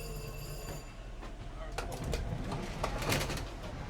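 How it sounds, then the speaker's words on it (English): Rumbling MARC commuter train with steady low drone and rattling wheels, a brief squeal, and faint bird calls nearby. "This is the MARC train."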